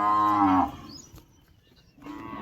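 Two deep buffalo lows, a loud drawn-out call at the start and a second one beginning after a quiet gap, close by, with no talking.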